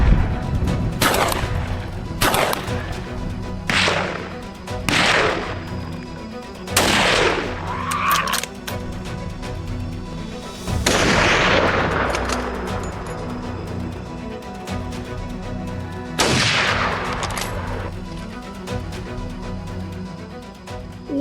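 Rifle shots from a .308 aimed at wild hogs, a series of sharp loud reports spaced a second or two apart, with echoing crashes and a couple of longer bursts later on.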